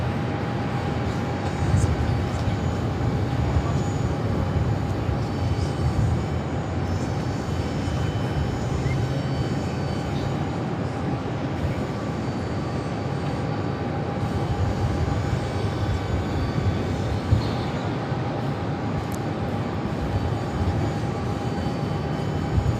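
Airbus A321 arriving at Phoenix airport after a flight from JFK, a steady distant engine rumble with a faint constant tone running through it, and little talk.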